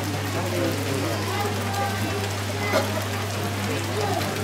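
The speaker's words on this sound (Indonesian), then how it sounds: "pada kita disambut dengan hujan" Steady rain falls throughout an outdoor funeral gathering in Tombang Tumanete, a continuous broadband hiss with a low hum underneath, while a voice speaks over it.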